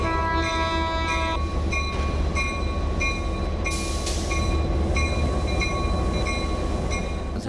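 A locomotive at a railway repair depot built in 1922 gives a loud, sustained tonal horn over a constant engine rumble, close by and with no talk.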